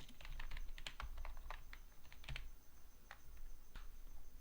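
Quiet, close clicking of a computer keyboard as a full name is entered, irregular keystrokes tapping in quick runs with a few slightly heavier presses and short gaps.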